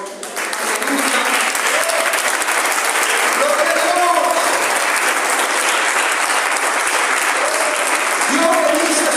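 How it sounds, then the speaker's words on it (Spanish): A church congregation applauds loudly and steadily throughout, a dense, sustained wash of clapping with voices audible underneath. "le dé un fuerte aplauso al Señor"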